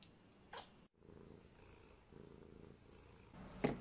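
An elderly-sounding cat with damaged vocal cords purrs steadily and close up, a soft continuous rumble with a few faint rustles and small clicks around it.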